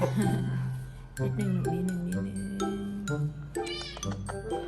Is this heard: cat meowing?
yes